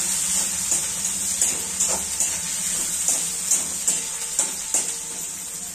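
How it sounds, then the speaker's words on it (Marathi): Peanuts frying in hot oil for a daliya tempering, a steady bright sizzle with irregular soft clinks and stirring taps, close and continuous with no talk. "फ्राय होऊ देऊया।"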